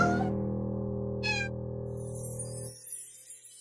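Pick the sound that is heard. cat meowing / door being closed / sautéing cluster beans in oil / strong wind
cat meowing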